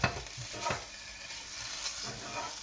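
Whole grain mustard is stirred into a beer and onion gravy in a pan, giving a soft, steady scraping stir over a quiet sizzle, close and with no voices.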